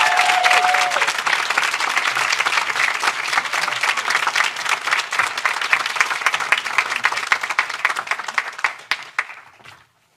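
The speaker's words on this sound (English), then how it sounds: "a big round of applause to Senator Andrew Gennardis" Applause for a state senator at a New York bill-signing ceremony: a large indoor crowd claps loudly and densely, holding steady for several seconds before trailing off into silence.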